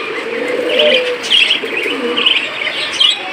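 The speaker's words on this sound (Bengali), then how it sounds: "অনেকগুলো ঘুঘু পাখি রয়েছে" Several caged doves coo softly up close, low repeated hooting calls mixed with higher chirps from other birds nearby, with no voices.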